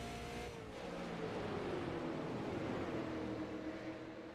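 Steady roar of race car engines revving and accelerating on a green-flag restart in an iRacing race at Nashville Fairgrounds, with a rising engine whine throughout, continuous and fairly loud.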